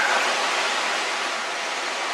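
A waterfall pours in a continuous broadband hiss, steady and fairly loud with no breaks, heard alone without talk.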